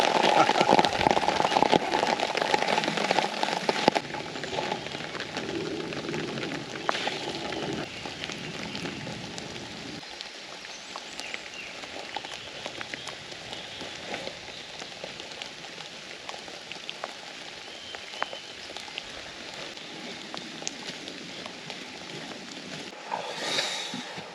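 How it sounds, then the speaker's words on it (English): Rain pattering on a tarp at a wild camp, a dense hiss of drops that is heavier for the first few seconds and then settles into a softer, steady patter with scattered sharper taps. "But the rain suddenly started coming down."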